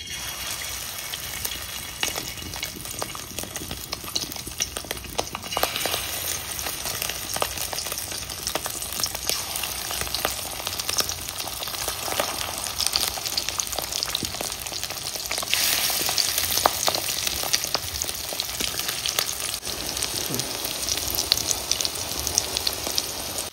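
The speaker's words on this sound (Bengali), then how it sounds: "এবার বড়াটা ভেজে নেব" Fritters (bora) fry in hot oil with a dense, continuous crackling sizzle that swells louder in the second half, close up and without speech.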